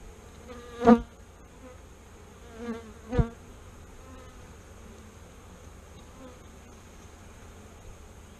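Honeybees buzzing around an open, strong hive during an inspection, a low steady drone with a few louder passes of individual bees flying close to the microphone, no talking.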